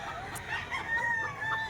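A golden rooster, eight months old, crows in a drawn-out, wavering call over low background noise, loud and fairly close.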